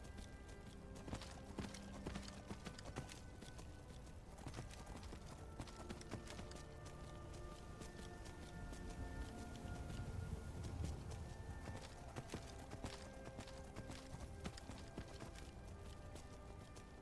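A horse's hooves clip-clop in a steady rhythm while riding in the Skyrim video game, mid-level and continuous under game ambience and music-like tones, with no talking.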